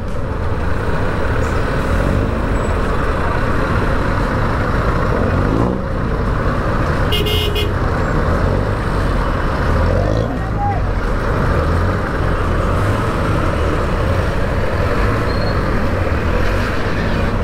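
Dense street traffic fills a busy Divisoria road with no stoplight in Manila, with engines rumbling close by, scattered car horn toots, and people talking throughout.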